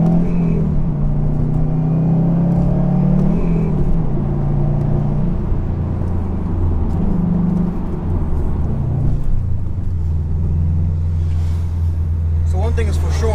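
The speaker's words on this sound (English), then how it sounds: "exhaust is very loud. very loud." A 2018 Subaru WRX STI boxer engine rumbles loudly through its exhaust, burbling and rising with throttle changes up close, heard under a speaking voice.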